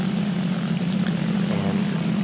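An FW 190 A-1 fighter in War Thunder rolls out with its propeller engine droning loud and steady in a constant low throb that is close and continuous throughout.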